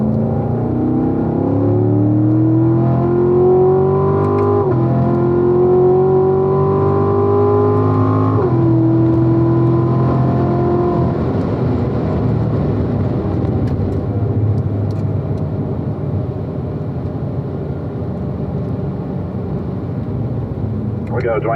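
A Grand Sport car on a track climbing through the gears with rising engine tones, then downshifting into a turn as the pitch drops and the drone roughens; an instructor talks throughout.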